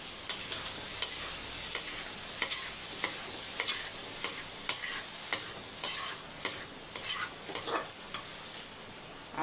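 Potatoes stirred and roasted in oil in a pan, with a steady close sizzle and repeated scraping, clinking stirs of a utensil against the metal at an irregular rhythm, no talk.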